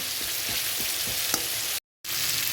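Spices frying in hot oil in a pan for a Bengali boal fish curry, a steady close sizzle with a few soft stirring scrapes, then a brief full dropout before the sizzle returns.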